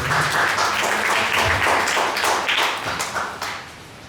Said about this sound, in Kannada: ಚಪ್ಪಾಳೆ ತಟ್ರಿ ನೀವು ಪಾಸ್ಟರ್ ಸರ್.